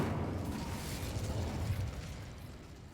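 A fire spell cast in the video game Hogwarts Legacy, a sustained roaring, crackling burst of flame that holds steady for a few seconds, then eases slightly near the end.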